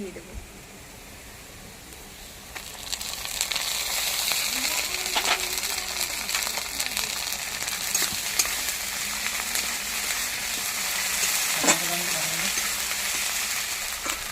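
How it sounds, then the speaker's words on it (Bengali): Ground ginger and garlic paste fries in a pan with onions, a steady close sizzle and occasional stirring clinks while a voice talks quietly in the background. "এবার বেটে রাখা আদা আর রসুনটা"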